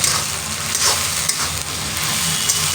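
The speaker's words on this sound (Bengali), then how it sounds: "এবারে এটাকে আমি সুন্দর করে কষিয়ে নেব।" Pointed gourd and prawns sauté in hot oil with coriander powder, a steady close sizzle with soft scraping stirs and occasional spatter pops, no voices.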